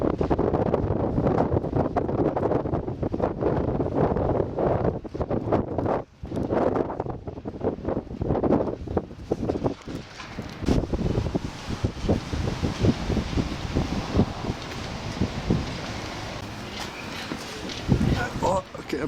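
Strong gusting wind buffets the microphone atop a castle tower wall, a loud continuous roar with rumbling surges that dips briefly and returns, with faint voices underneath.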